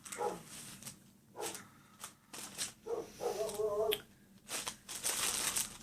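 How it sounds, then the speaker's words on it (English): Dogs barking in a home, a few sharp barks scattered among rustling and crinkling sounds, close and moderately loud, with brief bits of talk. "And there's my dogs. They like to make an appearance in every video. Barking at who knows what."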